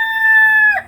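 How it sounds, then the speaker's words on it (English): A rooster crows nearby in one loud, sustained, clear call that breaks off at the end, with no one speaking. "Let me get rid of this rooster real quick."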